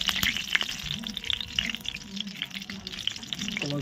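Oil left over from frying potatoes, topped up with a little fresh oil, heats in a pan with a continuous close crackle and hiss, sputtering steadily throughout.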